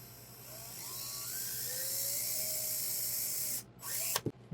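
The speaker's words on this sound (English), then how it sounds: "I always drill in steps, so I'll do that one and then bump up and then go to my reamer." An electric drill bores a hole while building a banana-shaped piece, giving a faint, rising whine with a hissing edge that holds for several seconds before stopping and starting again in short bursts.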